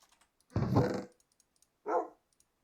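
A dog in the Minecraft game (version 1.14 survival world, near a village) gives two short barks, a longer one followed by a brief second, close and clear over near-silence.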